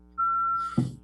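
A security system beeping during a parks and recreation commission meeting, one sustained electronic beep lasting about half a second, steady and clear, followed by a short muffled knock or rustle.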